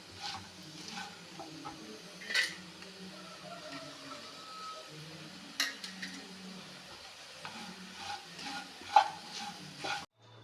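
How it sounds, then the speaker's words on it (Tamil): A crispy potato fry is stirred in a pan, with soft intermittent scraping and light clinks of the spoon over a faint, quiet sizzle, with no talking. "கைவிடாமல் கிளறி கொடுக்கவும்."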